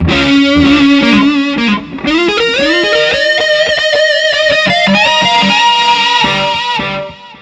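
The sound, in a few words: jazz fusion electric guitar with delay, chorus and reverb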